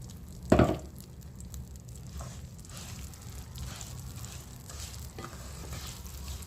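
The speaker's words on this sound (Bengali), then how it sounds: "এবার মুগের ডালটা ওতে ভাজবো, ভালো করে ভেজে নিতে হবে।" Mung dal fries in melted ghee in a pan, a soft steady sizzle with a sharp clatter near the start as it is stirred, and no talking.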